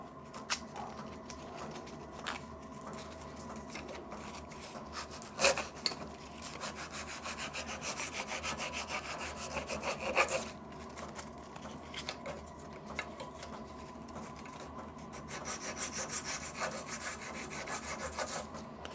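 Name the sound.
deburring oil pressure relief valve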